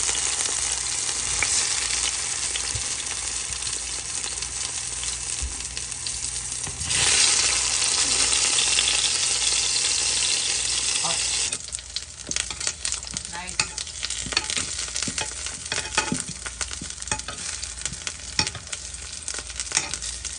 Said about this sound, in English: All right, my son is gonna fry plantain.